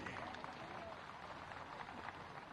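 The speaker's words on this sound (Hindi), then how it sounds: "आज सबसे पहले नत्थू कौल जी का तालियां बजा के आप स्वागत कीजिए।" Crowd applause at a public event welcoming Nathu Kaul, a steady, faint wash of many hands clapping that continues without a break, heard from a distance.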